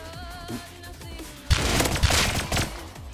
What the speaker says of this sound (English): a guy just rolled up and shot me and I killed him